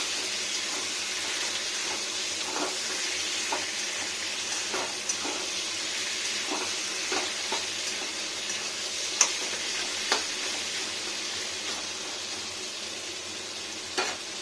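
Chicken pieces with broccoli sizzling in a pan as they are stirred and turned, a steady frying hiss broken by soft scraping knocks every second or so; no talk.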